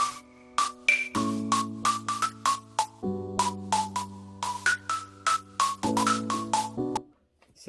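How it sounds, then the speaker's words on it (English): A future bounce synth lead plays a bouncy, plucky melody of short repeated notes over sustained chord pads, bright and upfront with no voices, cutting off near the end. "So this is a very typical future bounce melody"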